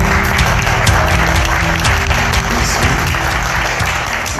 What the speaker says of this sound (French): le parrain, Tiemna Redouane Awader, en personne, qu'on peut applaudir